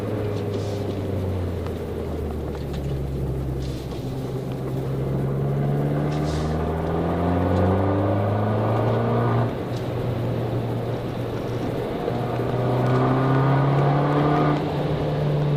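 An Abarth with a small 1.4-litre turbo engine drives and revs through the gears, its engine note climbing and dropping in repeated sweeps, close and loud inside the cabin, with no talking.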